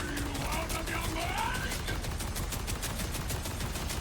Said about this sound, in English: So I'm going to shoot this SMG bod without like throwing the grenade